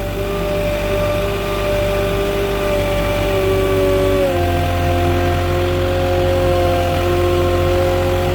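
A Moffett truck-mounted forklift driving on soft sand gives a loud, steady engine drone close by. The pitch shifts down partway through as the load changes.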